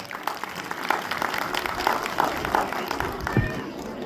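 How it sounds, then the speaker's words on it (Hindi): An audience applauds children at a government middle school's annual prize-giving function, a steady wash of many hands clapping at moderate distance for a few seconds, with a faint voice near the end. "एक बार तालियां हो जाए।"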